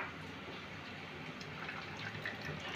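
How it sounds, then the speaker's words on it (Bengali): Water being poured into ground mustard and strained, a faint, steady trickling and splashing of liquid with no voices. "পিষে নিয়ে আমি এতে জল মিলিয়ে এইভাবে ছেঁকে নেব।"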